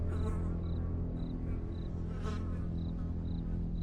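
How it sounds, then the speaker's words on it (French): Flies buzz in a room inside a forest horror video game, making a continuous close drone with faint, evenly spaced chirping pulses repeating throughout. "Ok, les mouches là."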